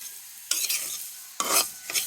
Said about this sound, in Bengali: জিরাটা ভাজতেছি, গুঁড়া করব